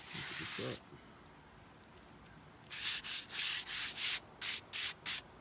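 Sanding a concrete speaker cabinet with 50-grit sandpaper: a burst of rough scraping at the start, then a run of rhythmic, close, loud back-and-forth strokes that grow shorter and quicker toward the end.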